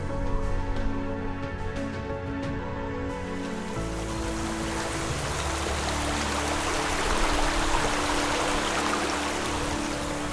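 The Baspa river rushes past Rakcham village in Kinnaur, giving a continuous loud roar of fast-flowing water that swells and stays dense throughout.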